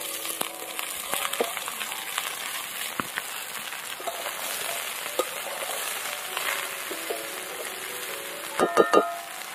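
Water spinach and slit green chilies frying in hot oil in a pan, a steady close sizzle with scattered crackles and a few louder stirring knocks near the end.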